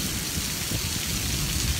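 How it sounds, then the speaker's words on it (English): Steady heavy rain hissing over everything, with a low rumble of thunder underneath throughout, during a storm with a tornado warning in Nacogdoches, Texas. "The weather, it's raining and thundering and wind"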